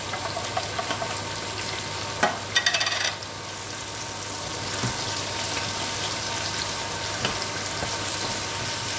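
Peppers sizzle steadily in a hot frying pan as about 200 grams of corn goes in, with a short clattering patter of kernels hitting the pan early on, then an even, continuous sizzle.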